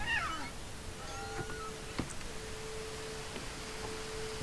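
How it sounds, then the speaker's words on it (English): A cat in the video game What Remains of Edith Finch gives a short meow at the start, then a faint steady tone and sparse soft game sounds drift over quiet background ambience. "He's a cat."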